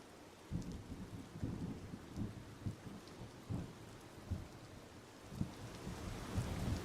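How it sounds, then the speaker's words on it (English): A rain and thunder storm sounds distant and fairly faint, with steady rainfall and repeated soft low rumbles and thumps of thunder rolling through at irregular intervals and no voices. "The rain has slowed, but the wind stays."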